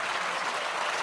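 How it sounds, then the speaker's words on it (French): National Rally deputies stand and applaud in the French parliament, a dense, steady wash of clapping from a crowded chamber that fills the whole second with no pauses. "on voit les députés du Rassemblement national qui se lèvent et donc qui applaudissent, on les entend"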